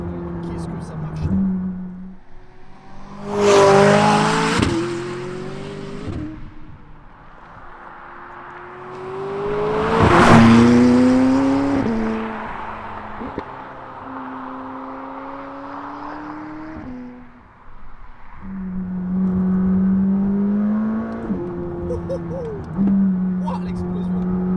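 A McLaren 600LT accelerates hard on the road, its engine climbing through rising revs with sharp gear changes, heard from inside the car under frequent talking, with brief louder bursts.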